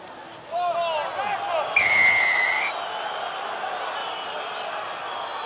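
A referee's sharp, sustained whistle blast at a France versus New Zealand rugby match, about a second long, rising above crowd noise, with a commentator's voice heard around it.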